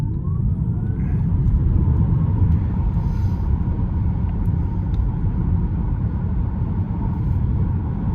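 A 2024 Tesla Model 3 Performance accelerates hard from a complete stop, heard from inside the cabin. Deep road rumble builds under a faint rising electric motor whine and holds strong for several seconds.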